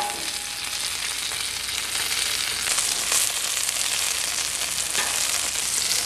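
Breaded red squirrel pieces fry in a little oil, giving a steady, close crackling sizzle with small pops throughout and no talking.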